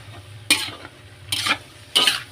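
Chicken and hotdog pieces fry in a pan for spaghetti while a spatula stirs them, giving three sharp scraping strokes over a soft, steady sizzle.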